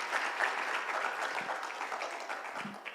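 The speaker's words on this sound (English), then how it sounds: "Asante sana, a round of applause" A round of applause at an internet summit and awards event in Kenya, many people clapping steadily at a moderate distance, with a faint murmur of voices beneath.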